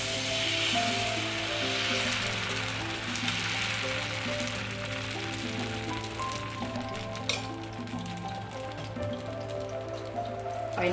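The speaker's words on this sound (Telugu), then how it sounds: "నేను దోశ వేస్తాను." Dosa batter sizzling steadily on a hot pan on the stove, a dense, even crackle close by that continues throughout without pause, no talking.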